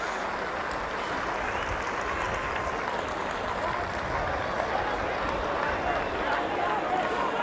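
Warrington rugby league fans applaud at a 1986 match against Salford, a broad, steady wash of clapping from a large crowd. A commentator talks over it throughout.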